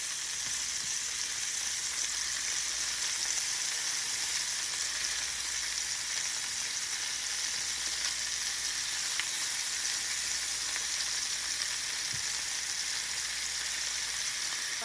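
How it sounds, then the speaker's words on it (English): Onions, tomatoes and peppers fry in oil in a pan, giving a steady, close, dense sizzle that holds evenly from start to finish with no talking. "We're just wanting to caramelize these onions."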